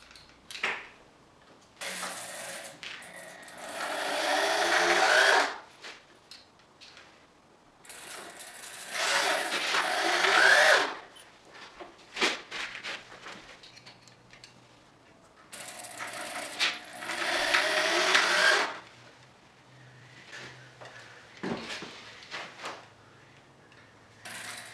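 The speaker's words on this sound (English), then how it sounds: "now take the screwdriver" A power screwdriver drives screws into a DIY wooden workbench, giving three loud whirring bursts of several seconds each, separated by quieter gaps with small clicks and handling noise, close up.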